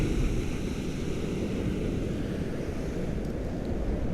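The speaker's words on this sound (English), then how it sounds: "those waves are just roaring out there" Surf roars steadily along a Southern California beach at night, a dense, unbroken rumble of breaking ocean waves with wind hiss and no pauses, loud and close throughout.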